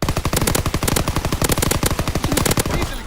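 PPSh submachine gun in Call of Duty WWII firing a long, rapid, evenly spaced automatic burst, loud and close, for about three seconds before cutting off.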